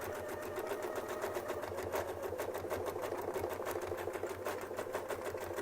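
A quilting sewing machine guided along a Westalee Spin E Fex ruler stitches in a fast, even, continuous rattle, steady and close throughout with no talk.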